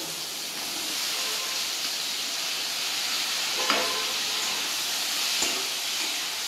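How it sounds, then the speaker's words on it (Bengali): Marinated potato and kakrol (spiny gourd) pieces frying in hot oil after lightly fried onion, a steady close sizzling hiss throughout with a couple of brief crackles, no voices. "এবার আমি আলু আর যে কাঁকরোলটা ম্যারিনেট করে রেখেছি ওগুলো আমি ওই তেলের মধ্যে দিয়ে দেব।"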